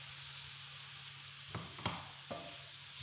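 Steady frying sizzle of bread in a pan, with a few soft clicks and taps of a utensil near the end.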